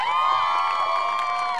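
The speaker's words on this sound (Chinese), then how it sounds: "给这10位进入决赛参赛者掌声加尖叫" Audience at a singing competition final cheering and screaming for ten finalist contestants, a sustained, dense crowd roar with high whoops, steady and loud throughout with no speech over it.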